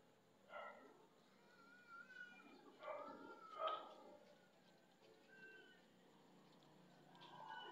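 A cat meows several times, close but fairly quiet, with soft background noise and a low hum.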